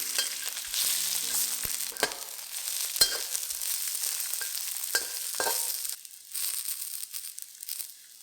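Ginger, garlic and dried chilies fry in a hot pan with a continuous close sizzle, punctuated by a few light clicks and scrapes of stirring.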